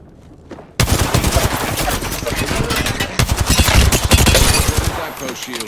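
Flatline rifle fire in Apex Legends, rapid automatic bursts of loud close shots in quick rhythm over several seconds, with brief pauses between bursts.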